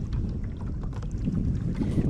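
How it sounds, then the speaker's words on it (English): A Minn Kota 40-pound thrust trolling motor pushes a kayak into the wind, a steady low churning hum with water slap and gusty wind buffeting the microphone. "My Minn Kota 40-pound thrust trolling motor."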